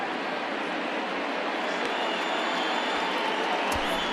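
Stadium crowd noise in MLB The Show 20 at a Rangers versus Angels game, a broad, steady murmur of many distant voices that fills the ballpark without clear peaks.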